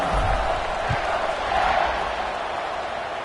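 A Baylor college football stadium crowd cheers at kickoff: a steady, dense roar of many distant voices that swells slightly and then holds.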